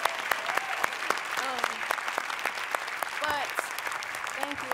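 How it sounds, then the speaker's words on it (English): Enthusiastic applause and cheering from the audience at the 2021 Grammy Awards ceremony, a dense continuous clatter of clapping with scattered whoops rising above it, fairly close and loud. "Can we just cheer for Megan Thee Stallion"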